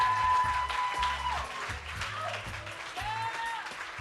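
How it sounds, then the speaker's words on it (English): Audience applause at a queer poetry reading, a steady wash of clapping from a crowd heard at moderate level for several seconds. "can we clap that we came through"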